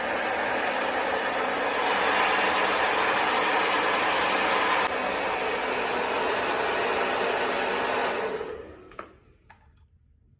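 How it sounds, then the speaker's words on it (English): Hair dryer running on high heat and high speed, blowing steadily into a diffuser bowl for curly hair, a loud continuous broadband whoosh for about eight seconds before it cuts off and fades, with a brief spoken word. "high heat, high speed on the dryer"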